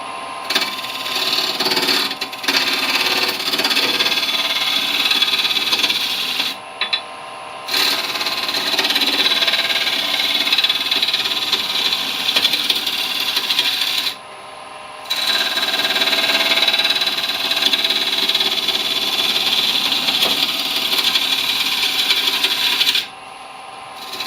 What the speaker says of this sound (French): Dès que ça accroche moins, on peut monter un peu mon tour à 1000 tours